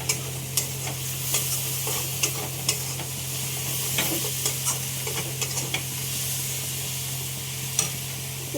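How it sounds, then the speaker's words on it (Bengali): Hot oil sizzling steadily after spice-washing water goes in for an onion-prawn dish, with faint scattered stirring clicks and a low steady hum underneath, fairly quiet and close. "মশলা ধোয়ার জলটা দেবো এরপরে।"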